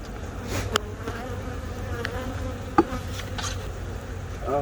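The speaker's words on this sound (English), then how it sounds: "appears to be a busy hive" A busy beehive hums with steady, close buzzing from many bees, a continuous drone with a few louder bees passing near and faint knocks.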